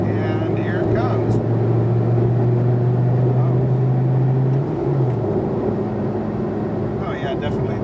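A 2013 SRT Viper GTS approaching, its engine a loud steady drone that rises slightly and then drops away, heard close under people talking.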